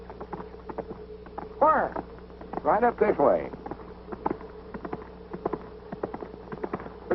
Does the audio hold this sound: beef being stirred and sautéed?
no